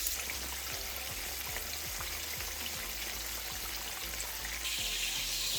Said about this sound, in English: It's already hot, so I'm just gonna go ahead and put the fish in